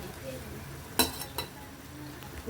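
Bitter gourd and potato curry being stirred in a pan: a soft scraping, gentle stir with a low sizzle beneath, and two brief clinks of the utensil against the pan near the middle.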